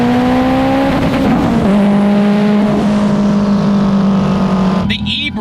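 A 1000 hp Subaru STI engine fitted with a Precision 7275 turbocharger drones loudly and steadily, a deep sustained engine tone that shifts pitch slightly before cutting off near the end.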